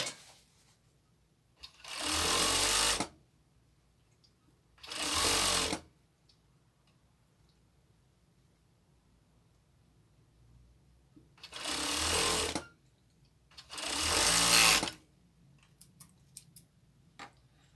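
Sewing machine stitching the waist seam of a crop top, running in four short bursts of about a second each separated by quiet pauses, close and clear with no talk.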